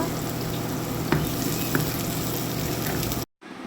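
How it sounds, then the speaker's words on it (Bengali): Chopped onions fry in hot oil in a kadai with a steady close sizzle, and a couple of soft stirring knocks sound over it before a brief dropout near the end. "তেল গরম হয়ে গেল দিলাম পেঁয়াজ কুচি পেঁয়াজগুলোকে আমি ভালোভাবে নেড়ে চেড়ে নেব"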